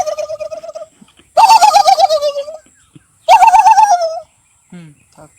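A man imitates the call of a domestic turkey raised in a village, producing three warbling, trilled bursts, the middle two loud and rapidly quavering, heard close with short pauses between.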